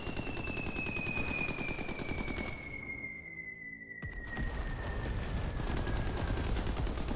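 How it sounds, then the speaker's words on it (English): A mortar barrage in the Pacific war video game Beach Invasion 1945 Pacific rumbles as a dense, continuous stream of rapid explosions under a falling whistling tone, briefly dropping away before resuming loud. "That was the mortar barrage."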